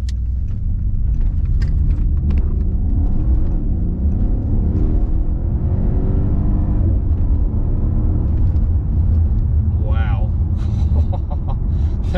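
A 2014 Mercedes-Benz S63 AMG accelerates in sport mode, heard from inside the car. The engine's deep rumble climbs steadily in pitch, loud and continuous, with a faint whir on top.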